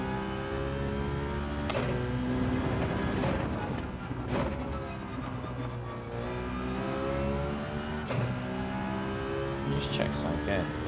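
Renault Megane Trophy race car engine in Gran Turismo 7, a steady, loud drone whose pitch rises and falls through several gear changes across the run.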